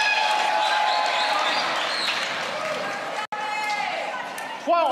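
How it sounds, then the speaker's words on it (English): A crowd at a professional pickleball match between Miami Pickleball Club and Chicago Slice cheers and claps in a sustained wash of noise, briefly cut off, then swelling again with a shout at the end while a commentator talks. "Crowd gets going now."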